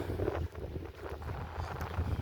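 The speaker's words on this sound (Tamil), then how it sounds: "ஆனால் குளிர் காற்று அடிக்குது, கடலை மடிக்குது" Cold wind gusts across the microphone at a seaside beach in Palermo, a steady rushing roar with slight swells, no voices present.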